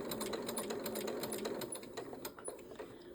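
A sewing machine stitches a fabric seam for a quilt block's Y-seam, its needle running in a fast, steady mechanical rhythm that slows slightly toward the end, quiet and close with no talk.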